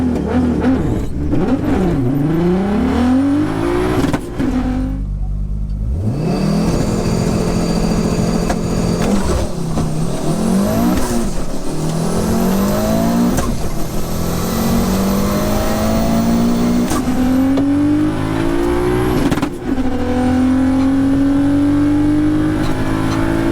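A 650HP Audi S2 and a 600HP Audi S5 drag racing: loud, sustained engine roar with repeated rising pitch sweeps through gear changes, close and continuous.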